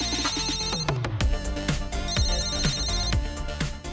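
A telephone rings in a Hindi TV serial scene, steady repeated ringing tones over a busy musical background, with no talk.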